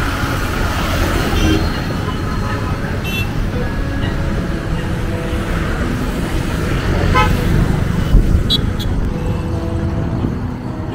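Vehicles speeding along a busy bypass road near Porur Lake in Chennai, a continuous loud roar of passing traffic with occasional horn toots and faint voices in the background.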